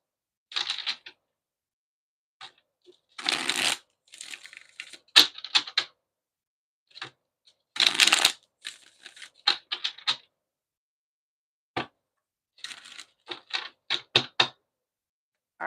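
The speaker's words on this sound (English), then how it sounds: "let's just go ahead and pull some cards to see exactly what's going on in the energy" Tarot cards are shuffled in quick irregular bursts of crisp riffling and slapping, close up with short pauses between handfuls and no talking.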